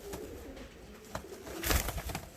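Fancy costume pigeons, a show breed, coo softly in a loft alongside faint rustling and a brief flurry of louder movement late on, with no talk over them.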